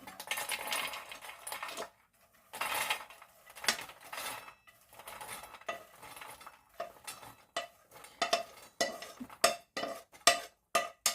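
Roasted makhana (lotus seeds) slide from a pan into a bowl in a home kitchen, giving light, dry rattling and clinking in irregular bursts, near and fairly quiet, with short pauses between scoops.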